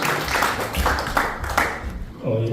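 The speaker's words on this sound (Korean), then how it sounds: "나오실 때 박수로 환영해 주시죠." Applause from a seminar audience of pastors welcoming a theology professor to the stage, a short burst of clapping mixed with murmuring voices.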